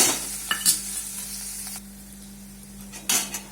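Spices frying in oil in a pan with curry leaves and chillies added, a steady sizzle with brief bursts of spattering and stirring scrapes at the start and near the end.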